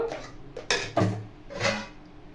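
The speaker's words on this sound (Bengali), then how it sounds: "এই যে থালার উল্টো দিকটা আমি রাখলাম" A metal plate is set down upside down in a home kitchen while making khandvi, giving a few close, light metallic clatters and knocks spread over a couple of seconds, with no talk.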